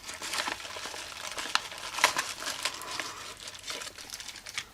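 Plastic or paper wrapping crinkling as a small mailed package is opened, with quiet irregular rustles and crackles close by, slightly louder around the middle, and no talking.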